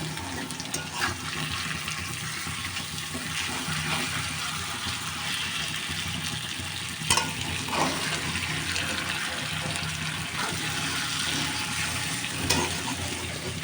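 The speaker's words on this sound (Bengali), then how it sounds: "ওই যে মাছ মেখেছিলাম সেই পাতিল ধুয়ে পানি দিয়ে দিলাম" Water runs and splashes steadily into a cooking pot after tilapia fish has been fried, a continuous close pouring with a few small knocks.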